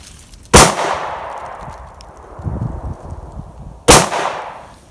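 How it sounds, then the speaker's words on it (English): Two loud, sharp 9mm handgun shots fired into a tree outdoors, spaced about three seconds apart, each followed by a brief echoing decay with faint rustling between. "we're going to try it again with the 9mm and see if it'll penetrate this tree"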